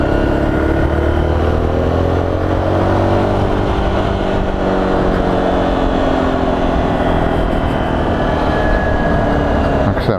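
A Zontes ZT310 X motorcycle rides off along a road, its engine droning and revving continuously with heavy wind rush throughout, loud and close from the rider's position.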